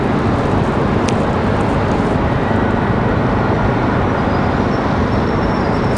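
An Air Canada A220 airliner departs Raleigh-Durham International Airport with a loud, steady broadband engine roar that fills the whole stretch, with no talk.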